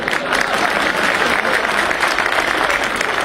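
Dense, steady applause from a large audience at a lawyers' welfare symposium held by a bar council in Delhi, sustained and loud throughout with a faint crowd murmur mixed in.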